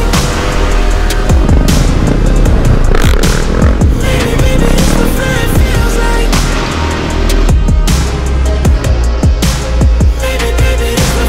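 A supermoto motorcycle on a road in Italy, its engine revving hard and loud and close as the rider pulls a wheelie, a continuous throbbing roar.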